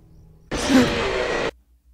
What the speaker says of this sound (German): Das war auch ein Atmen.